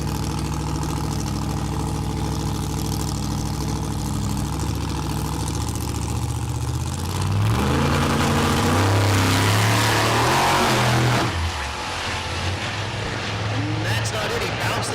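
A Camaro drag car sits in the left lane at the SRCA dragstrip in Great Bend, Kansas, its heavy engine rumbling at idle and then revving up to a louder, rising roar before backing off. A commentator talks over it.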